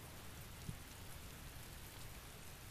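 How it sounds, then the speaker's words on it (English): Rain falling outdoors in the video game Tales of Berseria, a quiet steady hiss of rainfall with one small soft tap, continuing evenly and without talk. "We're in the rain outside now."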